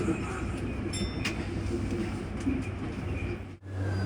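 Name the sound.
commuter train at station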